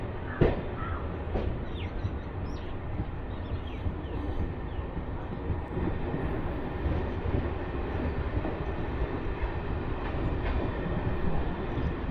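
A MEMU express train pulls out of Seethanagaram station on the Visakhapatnam–Parvatipuram line, with a steady broadband rumble of rolling stock holding at one level throughout and a few faint bird chirps early on.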